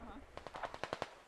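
Distant burst of automatic machine gun fire on a dockside battlefield in the Squad military shooter, about eight quick evenly spaced rattling shots, fairly faint, after a brief murmur of voice.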